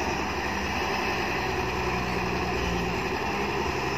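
A backhoe excavator's diesel engine runs in a continuous, close, even drone with no breaks or changes in pitch.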